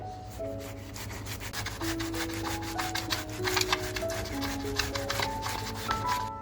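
Tomatoes grated by hand for a spicy dum-style chicken masala, giving close, steady rasping strokes that repeat throughout, with a faint melodic tone running underneath.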